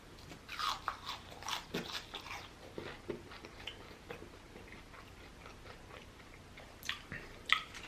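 Close, crunchy bites and wet chewing of Arby's fries during a mukbang meal, with irregular crunches spread across the stretch and sharper bites near the end, no talking.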